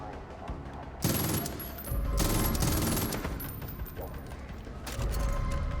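Rifle fire in Far Cry 5, loud bursts of rapid shots starting about a second in and recurring in dense volleys with brief lulls, over a constant game soundscape.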